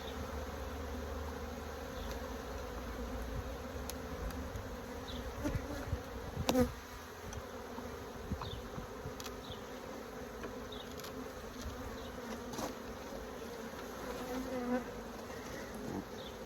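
Steady buzzing of many honeybees around an open hive, a continuous dense drone with occasional louder passes from bees flying close.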